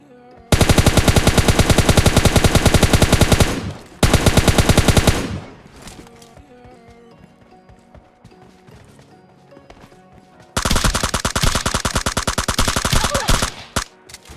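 Automatic rifle fire in the mobile shooter PUBG Mobile Lite: two long, loud, rapid bursts, then a quieter stretch of scattered shots and game effects, and a third sustained burst near the end.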